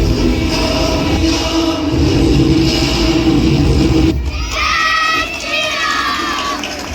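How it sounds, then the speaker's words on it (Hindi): A packed school auditorium crowd cheers at an annual function, loud sustained shouting and whooping from many children and adults, with a louder burst of excited voices near the end. "ऑडिटोरियम वो तालियों से गूंज उठा है"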